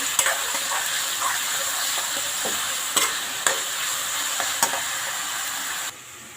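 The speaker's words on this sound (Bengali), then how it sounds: "ভালো করে নেড়ে করে ভেজে নেবো" Steady sizzling of koloi greens frying in a pan, with repeated scraping clicks of a spatula stirring through it.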